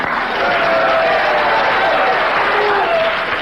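A studio audience at a late-night television talk show applauding, a dense, steady wash of clapping with scattered cheers, loud and sustained for the whole stretch.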